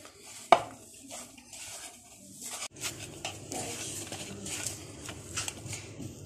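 Rasmalai dough ingredients being mixed by hand in a bowl at home, giving soft irregular pats, rustles and light clicks with one sharper knock early on and no talking.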